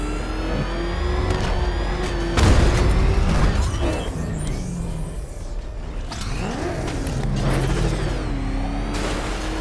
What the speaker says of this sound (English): He's crushing the car!